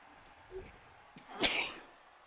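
A single sharp sneeze bursts out at close range against a quiet room, preceded by a faint intake of breath.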